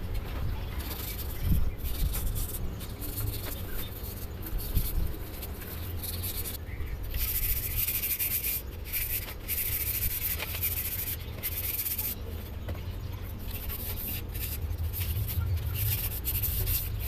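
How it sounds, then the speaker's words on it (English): Steady abrasive rubbing, sandpaper worked back and forth over a slotted metal brake rotor for a 2002-06 Mitsubishi Lancer, continuous and close with slight variations in pressure, no talking. "So now I just finished sanding just a little bit"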